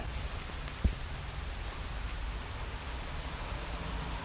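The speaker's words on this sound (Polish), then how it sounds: "A pada jeszcze bardziej. Proszę przestań już padać." Steady rain pours down outdoors, a continuous broadband hiss of drops on surfaces with one brief sharp knock near the start.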